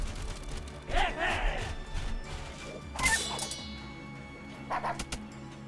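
Dog unit attacked in the turn-based strategy game Wargroove, heard as short yelping barks and whimpers mixed with sharp combat smashes and thwacks, loud bursts near 1, 3 and 5 seconds.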